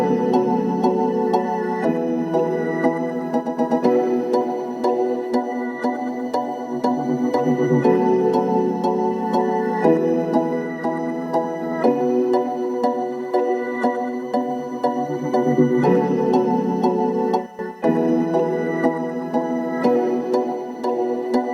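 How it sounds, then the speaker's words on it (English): Two sustained synth pads and a piano play together in a smooth, continuous blend, with steady chords shifting every couple of seconds at an even loudness throughout, close and full. "They consist of just 2 pads and a piano."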